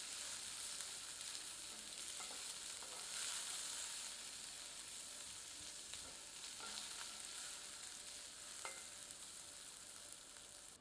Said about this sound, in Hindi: अब प्याज सम्मिलित करके भूनते हैं।